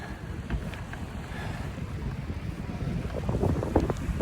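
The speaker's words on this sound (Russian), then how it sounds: "Ветер так песок наносит." Wind gusts across open asphalt, driving sand along the surface in a steady hiss and rumble that builds gradually, with no voices.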